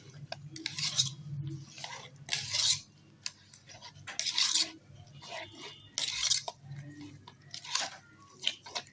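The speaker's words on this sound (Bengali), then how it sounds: "এবার আমি এর ভিতরে 1 বাটি নারকেল কোড়া দিয়ে দেব। দিয়েও এটাকেও ভালো করে সুন্দর করে মিশিয়ে নেব।" Grated coconut stirred into melted sugar in a pan for narkel pitha, giving soft sticky scraping and clinking bursts that come and go in a loose rhythm, close by, with no talking.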